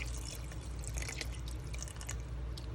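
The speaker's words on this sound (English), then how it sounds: "Okay, so I'm adding a little more water." Water is poured into a pot of vegetables for homemade vegetable stock, a continuous close splashing and trickling that fills the whole moment with no talking.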